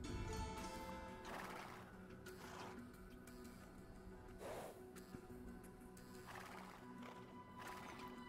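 Horse sounds from the Age of Empires II video game: repeated neighs and whinnies come in bursts over a steady game soundscape with clopping hooves, moderately loud throughout.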